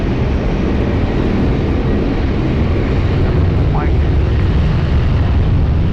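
Ryanair airliner on its takeoff roll from runway 20 at Lisbon Airport, a loud, steady jet engine roar that fills the whole stretch without letting up.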